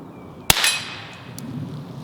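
A single sharp, short subsonic rifle shot, fairly muted, followed by a brief ringing tail and quiet outdoor background.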